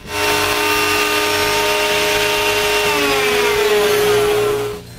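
A router fitted with a slot cutter bit cuts grooves along the bottom edges of plywood tray sides, a loud steady high-pitched whine with cutting noise that holds for about four and a half seconds before winding down, with no talking.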